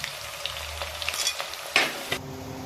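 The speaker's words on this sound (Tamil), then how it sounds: "வெந்தயம் செவந்த உடனே அப்படியே வெங்காயம் கருவேப்பிலை இது கோல்டன் கலர்ல மாறணுங்க" Onions and curry leaves fry in hot oil after fenugreek seeds have browned, giving a soft, steady sizzle with a few stirring scrapes near the end.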